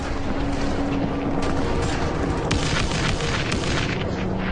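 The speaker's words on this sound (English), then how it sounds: "The Dushka 50 caliber heavy machine gun unleashes its devastating power once more." A Dushka 50-caliber heavy machine gun fires during a battle. A steady, roaring wall of loud gunfire carries sharp blasts that stand out at a few points and fills the whole stretch without a break.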